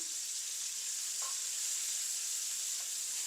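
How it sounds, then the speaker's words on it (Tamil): Prawns frying crisp in a pan for a pineapple prawn devilled dish, a steady loud sizzle throughout with faint stirring sounds, no talk. "இப்போ இறாலெல்லாம் பொறி பொரியிற அளவுக்கு வந்துட்டுது இன்னும் கொஞ்சம் கிறிஸ்பியாக பொரியணும்"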